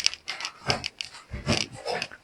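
Rapid, breathy panting from a dog close by, in quick uneven puffs.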